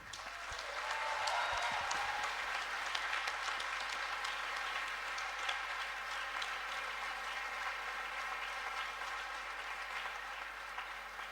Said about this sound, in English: give a huge round of applause to everyone who's been working for this ceremony and the whole day